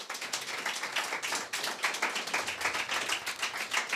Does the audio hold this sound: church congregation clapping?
yes